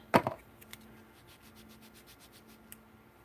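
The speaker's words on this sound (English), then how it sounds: "just get me some on there and rub it on so that it looks old and tea stained" A dauber rubs Tim Holtz Distress Ink onto junk journal paper in quick, soft scuffing strokes, with a louder pair of rubs at the start and then fainter, intermittent swipes.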